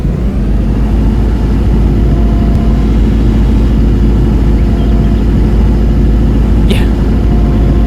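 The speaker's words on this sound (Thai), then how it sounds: "โอ้เสียงกระหึ่มมาก เร่งเครื่องลงก่อน" A Kobelco SK210-10LC excavator engine in Farming Simulator 22 drones loud and close, a steady heavy rumbling roar that holds constant throughout without any clear rise or fall.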